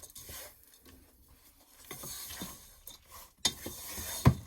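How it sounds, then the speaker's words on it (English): A spoon stirs a thick sugar-free flapjack mixture of butter and dried fruit in a bowl, scraping and clinking in irregular strokes that grow louder toward the end, close and with no voices. "let's keep giving it a good stir"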